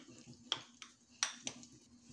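A spoon mixes carrot paste into rava dhokla batter in a bowl, giving four quiet, sharp metallic clinks at uneven intervals over a faint background hum.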